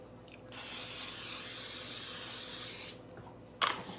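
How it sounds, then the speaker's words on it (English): A steady hiss of cooking spray runs for about two and a half seconds, close and even, followed by a short clink. "you have to spray the pan or whatever"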